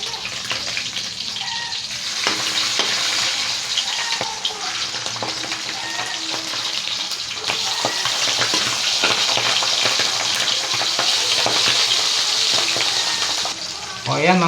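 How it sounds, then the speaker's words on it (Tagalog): Steady, close crackling sizzle of sapatero fish frying in hot oil, continuous throughout with small pops and occasional utensil clinks. "habang nagpiprito tayo ng sapatero"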